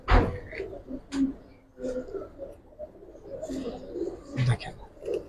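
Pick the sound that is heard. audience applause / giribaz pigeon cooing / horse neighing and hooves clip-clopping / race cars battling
giribaz pigeon cooing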